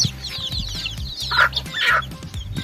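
Several large farm chickens with tied legs cluck and squawk nearby in short, uneven bursts over a low, rhythmic background thumping.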